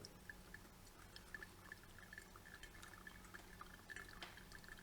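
Water poured slowly over ground coffee from Honduras and Mexico, a faint, steady trickle with soft drips, continuous and quiet, no talk.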